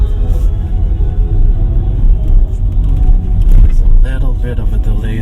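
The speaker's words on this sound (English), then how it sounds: "Let's see how this little hatchback handles." An MG 3 hatchback drives on a test track with a loud, steady low engine and road rumble inside the cabin, and a voice talks faintly near the end.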